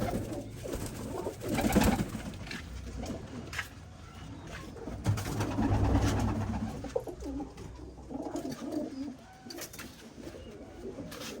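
Soft cooing of pigeons nearby, low murmuring calls repeating over a faint background of rustling and distant noise.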